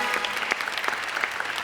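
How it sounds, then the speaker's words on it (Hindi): Lively applause from a television talk show studio audience, many hands clapping densely and evenly for the whole stretch, fairly close and loud. "आयशा उमर स्टाइल स्टूडियो के लिए तालियां।"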